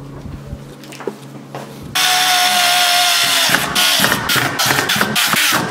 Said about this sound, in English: Drill it in or screw it in with your Phillips screwdriver.